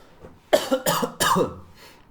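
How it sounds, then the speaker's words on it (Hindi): Three quick, harsh coughs in a row, close and loud, then quiet. "खांसी बहुत आ रही है यार"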